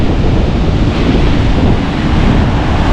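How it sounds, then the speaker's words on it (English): Large ocean breakers, about 10 to 11 feet, crash on the rocky Humboldt coast in a loud, continuous roar of surf mixed with heavy wind buffeting the microphone. "See, the breakers are about 10 to 11 feet."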